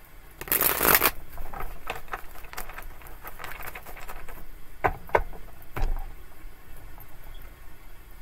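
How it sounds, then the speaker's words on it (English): Tarot cards being shuffled close up: a loud riffling burst, then several shorter flicks and taps, with quiet pauses between. "Two more shuffles."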